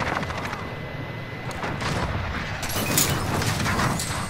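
Gunfire in the shooter game Call of Duty: Modern Warfare: steady bursts of rapid automatic shots, sharp and close, against a dense background of combat noise.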